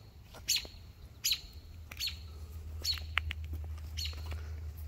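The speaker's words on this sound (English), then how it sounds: "That's a robin." A robin sings outdoors on a clear spring morning, giving short, bright, high chirps in bursts about every second, moderately close over a low background hum, with no talk.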